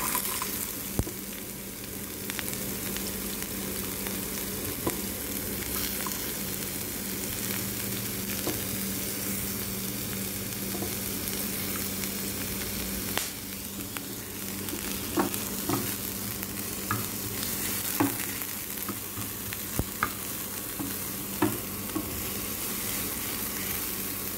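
Chopped onions frying in a little leftover oil in a pan, with a steady close sizzle and occasional stirring clicks throughout, no talking.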